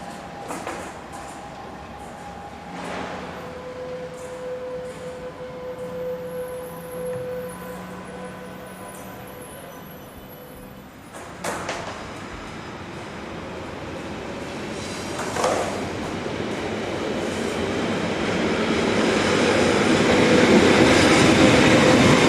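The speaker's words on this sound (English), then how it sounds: "a new light rail style electric unit operated by Regionalwerke Bern Solothurn arrives at the dedicated platforms on the south side of the station" A Regionalwerke Bern Solothurn light rail electric unit pulls into a station platform, its rumble and wheel noise swelling steadily from faint to loud over about twenty seconds, with brief squeals and clanks along the way.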